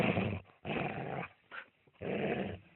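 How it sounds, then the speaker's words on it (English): A dog gives deep, rasping growls in three or four close bursts with short pauses between them, as though savaging and tearing at flesh. "a dog was ripping into its flesh with its savage and powerful teeth."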